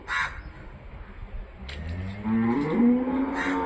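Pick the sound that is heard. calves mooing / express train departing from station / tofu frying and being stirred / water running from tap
calves mooing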